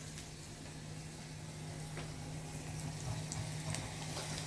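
Maratha-style black chicken curry rassa coming to a boil in a pot, a steady low bubbling and seething simmer that runs evenly throughout with no voices.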